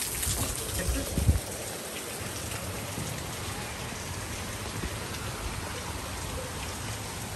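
Steady broadband wash of falling water in a Mumbai national park, a constant hiss-like roar like rain or a cascade, with a louder bump early on and faint voices now and then.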